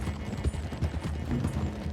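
Horse hooves gallop in Red Dead Redemption 2, a steady clip-clop pounding under busy game ambience for two seconds, fairly loud and close with no talk.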